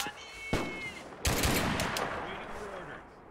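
Gunfire from the video game Mud and Blood, a sharp shot near the half-second mark followed by a loud, dense burst of rapid automatic fire that rings on, with a faint voice in the mix.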